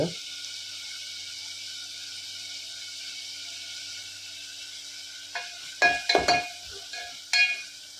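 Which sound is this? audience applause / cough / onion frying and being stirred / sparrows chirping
onion frying and being stirred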